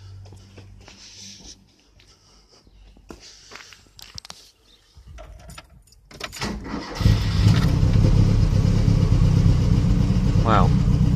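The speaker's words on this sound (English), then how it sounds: "she starts beautifully first time and holds quite a steady idle" A Ford Capri's Pinto SOHC engine fitted with StreetFire ignition fires up after some quiet handling noises, catching at once and settling into a loud, steady idle that runs to the end.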